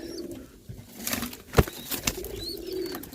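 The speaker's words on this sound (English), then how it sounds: "Fantail pigeons doing good." Fantail pigeons coo softly at close range, with a brief flutter of wings and a few faint chirps over a quiet background.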